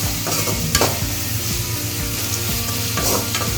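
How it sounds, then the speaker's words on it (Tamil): Onions sauté in a pan for Tamil-style chicken gravy, a loud, close, steady sizzle with a few scraping stirs and a low repeating hum underneath, no voices. "வெங்காயம் கொஞ்சம் நல்லா வதங்கணும்"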